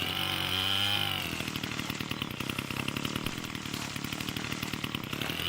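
A chainsaw runs close and loud in a game about clearing a forest of trees, its engine revving high at first and then chattering on at a steady rough idle throughout.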